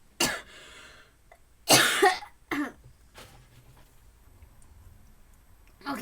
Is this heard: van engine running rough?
no